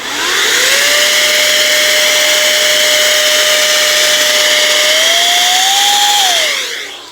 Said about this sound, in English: I would use something like compressed air or like this battery powered air blower just to blow away all those debris